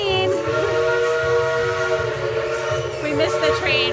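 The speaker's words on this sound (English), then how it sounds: "There goes the train." The steam whistle on the Dollywood train in Pigeon Forge blows a loud, steady, chime-like blast for several seconds as the train departs, over low rumbling and crowd murmur.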